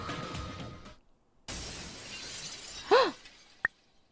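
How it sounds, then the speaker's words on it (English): A video game chandelier crashes down in a foyer, a sharp shattering burst of breaking glass with bright tinkling pieces, followed by a single short clink, loud against a quieter rumbling background. "As the foyer's chandelier came crashing down on Missy and Forte"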